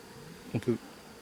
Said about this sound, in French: il y a quelques abeilles qui volent ici